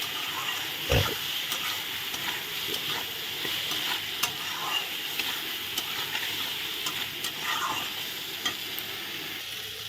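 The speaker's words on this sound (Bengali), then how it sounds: "দিয়ে ভালো করে নেড়ে চেড়ে নিলাম" Soybean chunks and potatoes with spices stirred in a pan, a steady sizzling hiss with scraping strokes throughout, one loud knock near the start, no talking.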